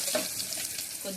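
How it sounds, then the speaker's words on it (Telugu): Dried red chillies and curry leaves drop into hot oil, giving a brief, steady crackling sizzle at close range. "ఆయిల్ వేడెక్కాక అవన్నీ వేసుకొని కరివేపాకు వేసుకొని"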